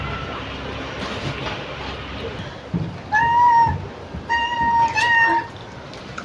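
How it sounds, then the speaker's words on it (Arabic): A domestic cat meows several times in a row, the harmonic cries standing out over a steady background hum with some faint talk around. "القطة بتعرف."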